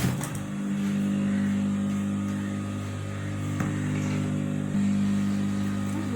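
Sewing machine stitching hooks onto the back opening of a blouse, giving a steady, continuous mechanical hum with a low motor drone that runs unbroken throughout at moderate loudness.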